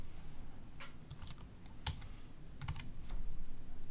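Computer keyboard typing a short number: a handful of quick, soft key clicks in two small clusters over faint steady background hiss, close and quiet.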